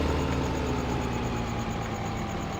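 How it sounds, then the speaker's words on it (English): A farm tractor idling on a farm, a steady, loud low engine drone with a faint regular ticking, unbroken and without speech. "Tractor all ready to go to unload it again."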